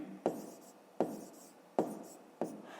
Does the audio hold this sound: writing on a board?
yes